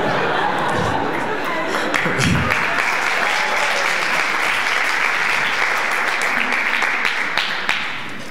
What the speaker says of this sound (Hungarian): Mondom, most az ELTE-sek tapsoltak.